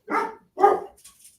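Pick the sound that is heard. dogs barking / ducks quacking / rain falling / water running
dogs barking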